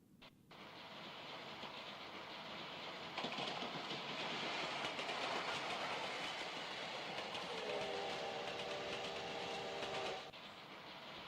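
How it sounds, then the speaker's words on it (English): A steam locomotive train runs along the rails with a continuous loud rumble and rhythmic clickety-clack, and a whistle-like tone rises briefly near the end before the noise drops away. No one speaks. "In Japan, the steam locomotive like this was widely used until 1960s."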